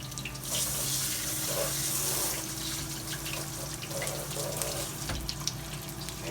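Tempura-battered cod pieces frying in oil, a continuous hissing, bubbling sizzle with a louder burst early on, close and steady throughout.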